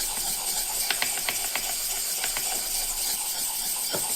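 A drawknife blade is honed on a 1000 grit sharpening stone with a run of short scraping strokes under a constant background hiss. The strokes come close and moderately loud in an uneven rhythm.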